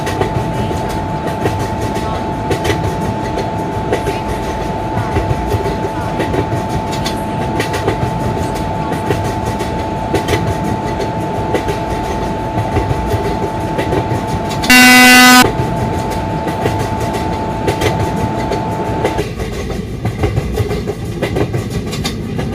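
An Indian Railways superfast express train on the Surat to Vadodara route at a station platform, with a steady rumble of wagons throughout and one loud horn blast around the middle.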